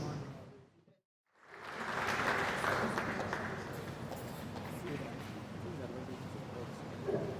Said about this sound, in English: Another big round of applause for our dear Vice Chancellor, Professor Ogunsola, for that wonderful remarks